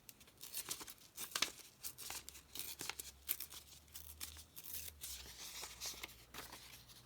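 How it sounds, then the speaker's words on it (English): Paper being torn for a handmade folio, a series of quiet dry ripping strokes in irregular bursts across several seconds, close and soft with faint low background hum. "So let's just tear this down a bit."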